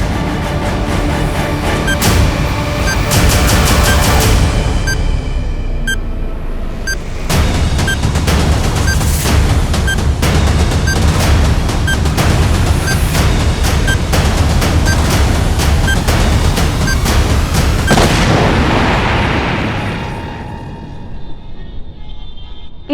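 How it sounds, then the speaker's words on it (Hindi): A bomb explodes in a heavy, booming blast, followed by a long rumbling roar and crackling debris that stays loud for many seconds before thinning out. "जो तुम ना बोल पाए वो अब ये बम विस्फोट बोलेगा।"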